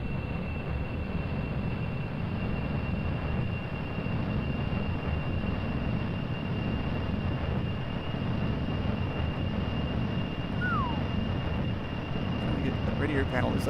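SSTO spaceplane engines throttling up in Kerbal Space Program, a steady, loud, unbroken roar holding constant throughout, with a voice speaking over it.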